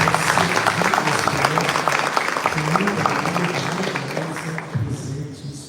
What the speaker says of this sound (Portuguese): Você também pode aplaudir o Senhor para a vida dos jovens.